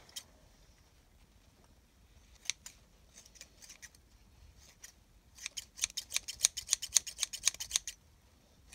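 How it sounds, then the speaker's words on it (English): Scissors snipping through thick felted wool, scattered cuts at first, then a quick, steady run of crisp snips close by, with no talking. "It would really help if I got a sharper pair of scissors"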